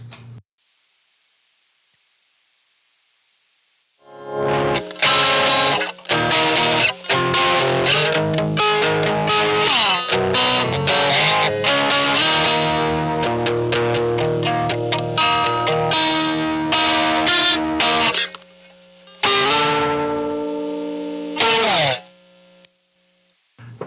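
Electric guitar played alone through a Model FET version 3 preamp pedal: after a few seconds of near silence, chords and single notes ring out loud and close with a driven, slightly effected tone, broken by short pauses before fading out.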